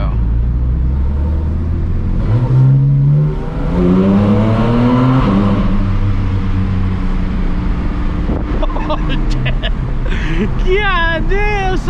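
A 2023 Porsche Cayman GT4 RS engine revs hard inside a tunnel, rising harmonics climbing through repeated throttle pulls, loud and reverberant, with brief speech and shouting near the end.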